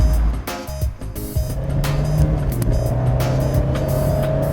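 A 2017 Fiat 124 Spider with a 160-horsepower engine pulls hard off the line, its engine note rising steadily and loud from close by as it accelerates, with no voices over it.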